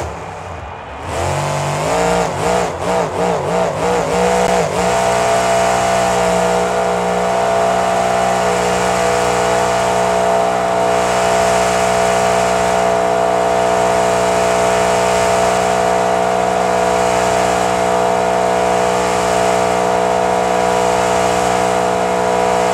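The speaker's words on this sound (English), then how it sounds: "I'm pretty sure that's gonna take the win for how long she was able to hold that donut for" Grave Digger monster truck at a Monster Jam show, its engine revving up sharply and then holding a loud, sustained roar while spinning a long donut.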